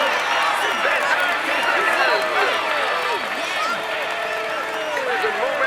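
A crowd applauds and cheers at the podium ceremony in the Tour de France 2020 video game, a dense, loud, continuous wash of clapping and voices while a commentator talks over it.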